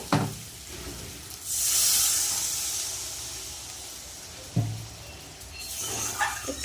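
Water poured into spice paste that has been fried in oil until the oil separates, for an amudi fish tel jhal curry, bursts into a loud sizzling hiss that swells and then fades. A few clanks of a spoon follow.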